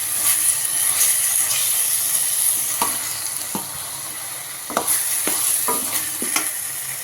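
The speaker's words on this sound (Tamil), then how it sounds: "நல்லா அப்படியே வதங்கட்டும்." Ingredients sautéing in a pan for a sundakkai (turkey berry) tamarind curry give a steady sizzle and hiss, with a few brief clicks and scrapes of stirring. No voices are heard.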